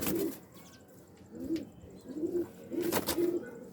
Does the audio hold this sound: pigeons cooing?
yes